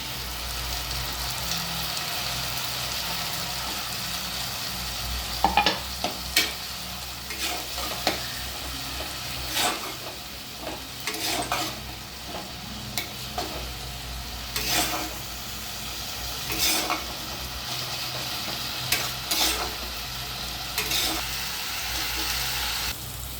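Tomato puree sizzles in a pan over fried ginger and garlic for a Punjabi-style aloo dum. A steady low frying hiss runs throughout, with sharper stirring clatters and spatters recurring every few seconds and no talking.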